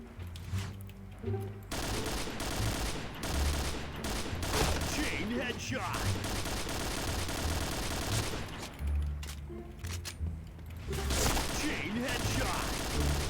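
Gunfire from the video game Point Blank comes as repeated bursts of rapid shots over about thirteen seconds, with brief pauses, dense and fairly close, under some voice activity.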